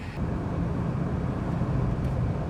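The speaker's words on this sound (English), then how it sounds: "some of these 2-liter turbos, although this one is beautiful performance-wise, it sounds a little bit like a vacuum cleaner" Alfa Romeo Giulia 2-liter turbo engine heard from inside the car as a steady, loud whooshing drone under road noise, with no voices.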